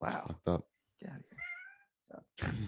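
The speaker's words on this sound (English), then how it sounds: "Sorry, that's a cat." A cat meows in a few short, rising tonal cries between bursts of nearby conversation, the voices loud and the cat softer in the gaps.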